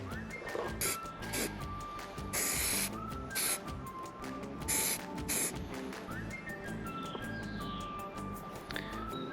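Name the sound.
spraying crack-detection dye on engine block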